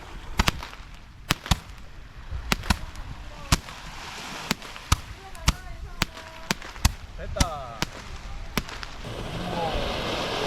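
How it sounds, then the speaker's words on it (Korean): Fireworks pop in sharp, irregular bursts outdoors in the evening at a campsite in Ulsan, a dozen or so cracks over faint background voices and ambient noise. "저녁에 불꽃놀이도 했다"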